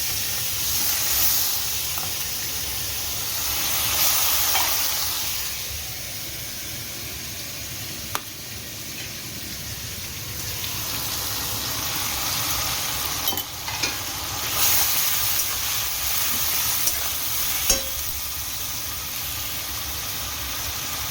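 Onion paste with chickpeas and meat spices sizzles steadily in a pan for a long stretch, a dense close hiss with occasional stirring clinks and small pops, no one speaking.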